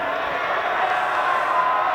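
A Nudgee College schoolboy rugby crowd at a GPS match against Southport roars steadily, a broad continuous wash of cheering and voices held at a constant level throughout.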